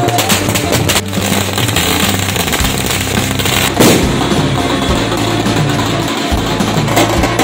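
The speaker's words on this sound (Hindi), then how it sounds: "कांटाफोड़ में भाजपा कार्यकर्ताओं द्वारा आतिशबाजी की गई" Loud, continuous crackling and popping of firecrackers and fireworks set off at a BJP election victory celebration in Bagli, Madhya Pradesh, with dense rapid bursts and sharper bangs throughout.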